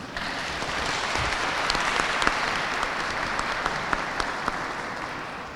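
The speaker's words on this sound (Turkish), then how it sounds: "Ve ben bu öğrencilerimize bir alkış almak istedim." Continuous, dense applause from a crowd at a school event honoring students, holding a steady, even level throughout with a few sharper claps standing out.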